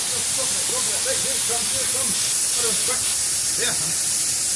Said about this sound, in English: And there's the steam.